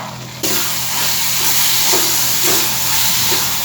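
Pumpkin puran poli mixture cooking in a pan, a loud steady sizzle and hiss that jumps up at the start and then continues evenly with faint stirring scrapes underneath.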